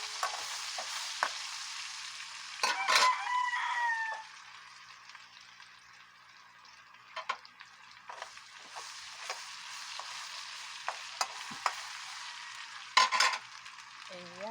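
Ginger sizzles and is stirred in a hot pan while cooking escabeche, a soft steady frying hiss with occasional clinks and scrapes of a utensil against the pan, close by.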